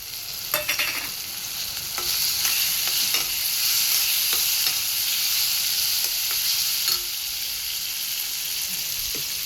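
Crushed garlic, ginger and chili fry in a pan with a continuous close sizzle, broken by scattered scraping and stirring clicks from a spoon.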